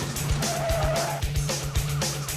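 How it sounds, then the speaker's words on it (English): Tires skid and squeal as a police cruiser clips the front end of a fleeing SUV during a chase, engine noise loud and close with a sharp screech under repeated thumps. "First contact is made as the cruiser ahead clips the front end of the vehicle."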